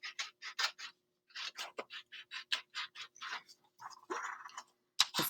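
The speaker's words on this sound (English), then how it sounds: "Then cut out your next mitten." Scissors snip through paper while a kindergarten mitten craft is cut out, a quick series of faint, close, crisp cuts in an uneven rhythm with a brief pause midway.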